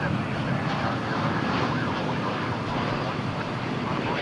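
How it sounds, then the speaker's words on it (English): An Airbus A321neo airliner at Dallas Fort Worth, a continuous broadband jet roar, moderately loud and even across the short stretch. "It's an A321neo."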